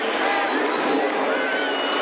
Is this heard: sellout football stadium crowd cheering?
yes